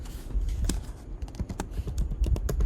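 Rapid keystrokes on a computer keyboard, an uneven run of crisp close clicks and taps with short pauses between bursts, no voices.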